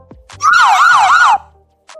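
A wailing siren sound effect rises and falls in repeated sweeping cycles, loud and alone for about a second, starting abruptly after a few faint clicks and cutting off sharply.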